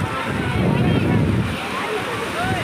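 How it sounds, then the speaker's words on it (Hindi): Strong sea waves crash against the shore near Somnath temple, a loud continuous wash of surf and spray close by, likely with voices mixed in. "लहर बहुत ज़्यादा आ रही है, बहुत तेज़ है।"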